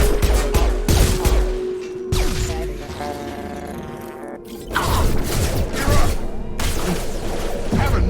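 Gunfire in the video game Mass Effect 2 comes as loud, close bursts of shots and impacts, with mechanical whirs and booms between volleys and a voice speaking over the fighting.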